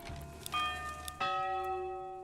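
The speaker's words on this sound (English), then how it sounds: "When you can change your bell sound." Two church bell strikes ring out from a village church in the medieval city-building game Manor Lords. Each is a clear, resonant metallic tone that sustains and slowly decays, the second following about two-thirds of a second after the first.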